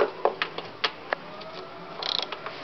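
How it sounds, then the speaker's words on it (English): Socket wrench ratcheting while adjusting a lawn mower's mechanical governor, a few sharp clicks spaced apart then a quick rattling burst of pawl clicks, close and clear with no talking. "you're going to need a socket wrench"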